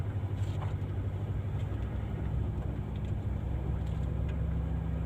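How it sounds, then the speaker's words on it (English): A vehicle approaches from behind on a rural neighbourhood road, a steady low engine rumble and road noise filling the scene continuously, fairly loud and without talk. "So there's a vehicle behind us now coming from Oping's house, our neighbour"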